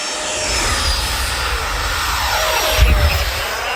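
A Freewing F-15 RC jet with 90mm ducted fans whines loudly and steadily as it takes off, the roar swelling briefly near the end.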